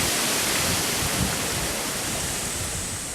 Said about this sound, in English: That wind makes me very nervous.